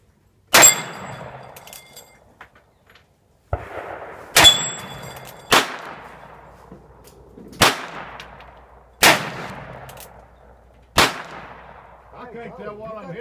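Six sharp gunshots from a Cimarron 1873 Single Action Army revolver ring out one at a time at an outdoor steel plate rack, each followed by a decaying echo, with brief metallic clangs between them.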